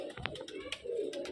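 Soft pigeon cooing, a few low murmuring coos with a brief sharper call near the start, heard close and fairly faint against a quiet background.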